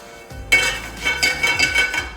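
Cloves and cinnamon sticks dry-roasting in a pan, a sudden loud metallic clatter followed by several rattling scrapes as the whole spices are tossed and shaken against the hot metal, close up with no speech.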